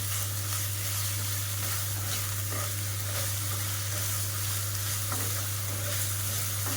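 Ginger-garlic paste sizzles steadily in hot oil as it is sautéed for a coconut tangra fish curry, a continuous close frying hiss with faint stirring scrapes and a low steady hum underneath.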